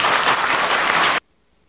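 Full, steady applause from a large audience at a university graduation ceremony in Taiwan rolls evenly for about a second, then cuts off abruptly into near silence.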